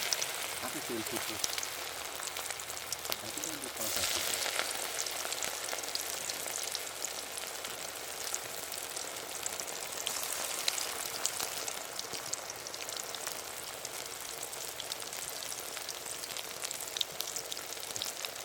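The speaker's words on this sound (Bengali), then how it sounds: "তেল ফুটছে" Hot oil bubbling and sizzling as prawns fry in a pan on a boat at a river confluence, a continuous close crackling hiss that holds steady throughout.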